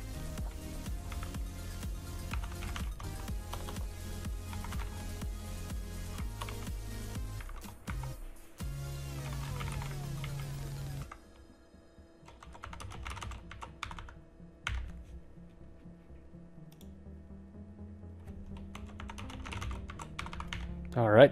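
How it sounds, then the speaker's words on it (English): Close clicky typing on a computer keyboard as a password is entered, with rapid keystroke bursts, pauses, and a few louder isolated key presses. "type in our password one more time"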